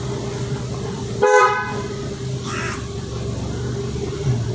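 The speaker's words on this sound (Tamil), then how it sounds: "இப்போ நீங்கள் ஏதாவது 4 கார்னர்லாம் கிராஸ் பண்ணுறீங்கன்னா அப்போ நீங்கள் வந்து கண்டிப்பாக ஹாரன் கொடுக்கணும்" Car horn during a driving lesson on the road: one short, loud honk, then a fainter second toot, over a steady low engine hum, no voices.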